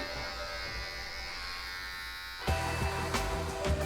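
A Braun electric shaver trims a beard, its steady buzzing hum running close and continuous, then turning rougher and more uneven as it bites into the hair partway through.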